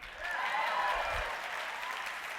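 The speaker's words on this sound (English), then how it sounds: "I like it when you clap because it makes me feel human." Audience clapping at a corporate advertising showcase keynote, a steady wash of applause throughout with a brief whistle-like tone early on.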